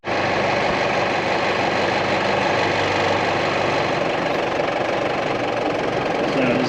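A farm tractor's diesel engine idles steadily throughout while a front loader is being fitted to fetch straw bales, a loud, continuous low rumble with a knocking texture and no break.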